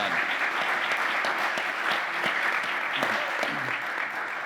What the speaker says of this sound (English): please give a round of applause to him and all the work that he's